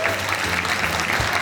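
An audience at a comic poetry gathering claps steadily and loudly. The dense, continuous applause lasts the whole moment.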